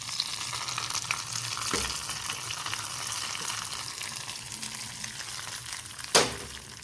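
Hot tempering tipped into a mango curry sets off a steady, close sizzle and frying crackle that carries on throughout, with a light knock near the start and a sharper clatter toward the end.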